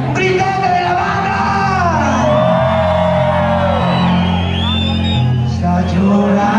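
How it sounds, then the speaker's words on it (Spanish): A crowd at a live banda concert shouts and whoops loudly over sustained brass and band music, voices rising and falling in long cheering yells, close and dense. "¡Un gritote de la banda!"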